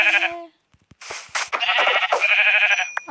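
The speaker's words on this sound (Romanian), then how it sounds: "Oaie! Oaie!" Video-game sheep in a blocky Minecraft-style world bleat several times in quick succession, loud and close, with short gaps of near silence between the calls.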